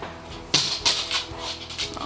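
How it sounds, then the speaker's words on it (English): Dogs playing indoors, with a few soft scuffling bursts and light pattering of paws, close and moderately quiet, plus faint whimpering movement sounds. "And if you hear the little pit pats, it's another dog."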